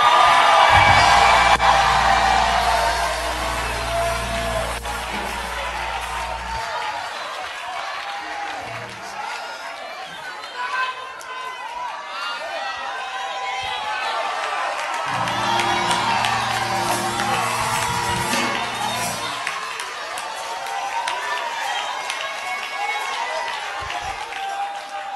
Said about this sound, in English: Clap your hands and scream hallelujah.